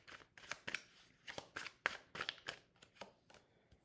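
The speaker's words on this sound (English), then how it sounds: "Let's pull some more cards." Tarot cards being pulled from a deck and shuffled, a run of crisp riffling slaps and flicks in an uneven rhythm, close and fairly quiet, with no voice over them.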